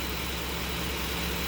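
Engine of a 2009 Ford F-150 with a history of coolant loss and misfire, now running with a steady, even drone heard up close, with no talking.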